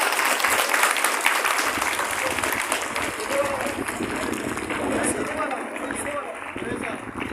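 A school audience applauds at a Republic Day celebration after the principal's speech: dense, continuous clapping from a crowd that stays steady and fairly loud for several seconds, with faint voices mixed in.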